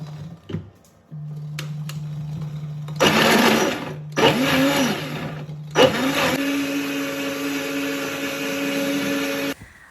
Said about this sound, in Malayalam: ഇനി നമുക്ക് ഇത് മിക്സിയിൽ ഒന്ന് അരച്ചെടുക്കാം